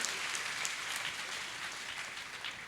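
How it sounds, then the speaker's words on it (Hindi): An audience at a motivational session for JEE/NEET aspirants applauds, steady dense clapping heard at a distance, fairly faint and continuous throughout with no speech. "उसके लिए फिर से एक बार जोरदार तालियां बजा दीजिए"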